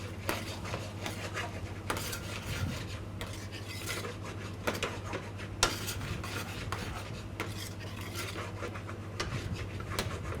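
A utensil scrapes and knocks against a pot of butter chicken in repeated stirring strokes over a low, constant background hum.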